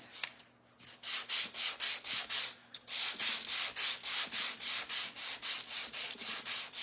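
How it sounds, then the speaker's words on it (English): Rhythmic back-and-forth sanding strokes on a small craft piece for a DIY water pitcher, close and steady, with a brief pause before the regular scraping strokes resume. "I'm gonna go ahead and sand this"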